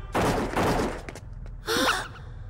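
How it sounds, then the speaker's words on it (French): Detonations and bursts of gunfire in a French-dubbed Totally Spies cartoon episode, two loud rapid volleys separated by a short pause, with a brief gasp-like sound near the second burst. "Les détonations viennent de ce côté-là."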